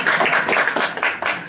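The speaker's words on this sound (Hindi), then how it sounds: "जोरदार ताली मारो इसको।" An audience at a Bhagavad Gita class claps together, a dense burst of loud, close applause that runs steadily with a few brief dips in intensity.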